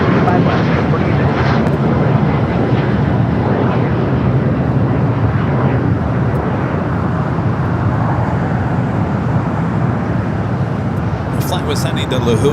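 Jet airliners roar continuously at Los Angeles LAX airport, including a Delta A330neo, a loud broadband rumble with steady wind-like noise throughout and a voice talking over it.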